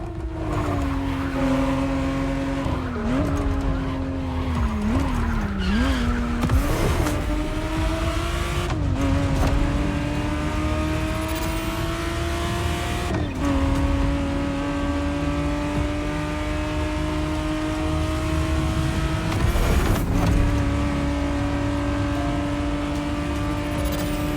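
A 1991 re-engineered Ferrari Testarossa races in The Crew Motorfest, its engine revving loud and close with rising pitch sweeps across gear shifts, a few short tire-squeal bursts, and a sustained high drone running nearly alone for the whole stretch.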